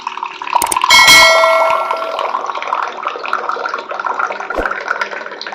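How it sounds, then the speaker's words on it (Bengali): Water pours from an automatic dispenser pump after its top switch is pressed, a steady moderate splashing stream opening with a brief ringing clang and running evenly throughout. "এই ওপরে যে সুইচটা দেখছো এটাকে চাপ দিলেই জল পড়বে"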